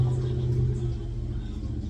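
A car passes along a quiet rural road near a deer camp, a steady low engine rumble that is loudest at the start and eases slightly as it moves on.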